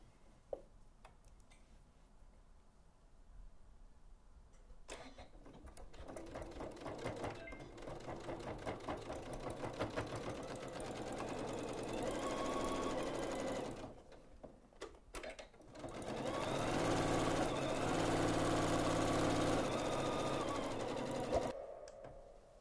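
A Janome sewing machine stitching a clutch bag's lining and outer together, its steady rapid ticking hum running in long bursts with short pauses between them, close and clear.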